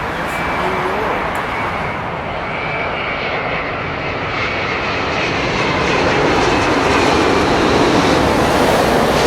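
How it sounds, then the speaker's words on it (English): Loud, continuous engine roar from a Virgin Atlantic Boeing 787-9 arriving at London Heathrow from New York, a broad rushing jet noise that swells slightly toward the end. "Virgin 787-9"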